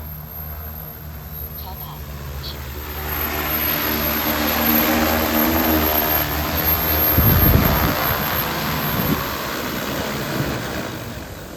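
Agricultural spraying drone, the NV20, descending to land outdoors, its propellers giving a steady broadband whir that swells and stays loud, with a low rumbling gust near the end.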